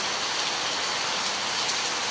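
Heavy monsoon rain pours down steadily during the month of Sawan, a dense, even hiss that fills the whole moment with no let-up and no voices.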